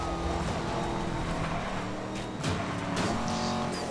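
A car races in Need For Speed Most Wanted (2012), its engine roaring loud and steady with shifting revs, passing whooshes and brief tire noise, with no talking over it.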